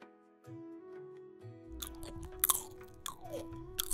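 Crunchy fried samosas being bitten and chewed, crisp crackly bites and munching over a soft low musical backdrop, growing louder and busier toward the end with sharp crunch peaks.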